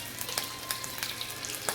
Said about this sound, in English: the butter melts nicely in here. And as you can see, it's nice and sizzling